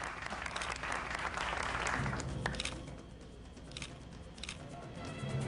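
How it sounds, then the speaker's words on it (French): Steady applause from a small gathering at an engagement celebration, a continuous wash of clapping at moderate distance that swells and eases slightly throughout. "Applaudissements!"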